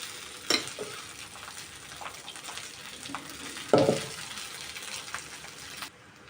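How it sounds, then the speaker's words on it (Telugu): Cumin seeds and cooked rice fry in a pan for jeera rice, giving a soft, continuous sizzle with a couple of louder scraping stirs, close by and without talk. "ఇందాక ఉడికించుకున్న రైస్ కూడా వేసేసుకుందాము."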